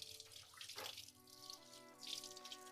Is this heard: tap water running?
yes